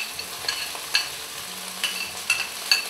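Beef stir-fry with mushroom, onion, and red and green peppers sizzles in a pan, with steady frying hiss and soft, repeated scraping stirs of the utensil.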